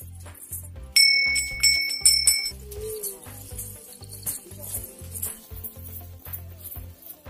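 Small bells ring in quick, bright clusters at a Hindu temple, loud and close for a couple of seconds, then fainter, over a steady rhythmic low thumping.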